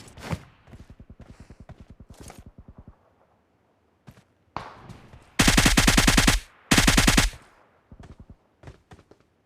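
Gunfire in the battle royale game BGMI: rapid automatic bursts of shots, a steady rattling run early on, then two very loud, dense bursts in the middle, followed by scattered single shots, with no talk.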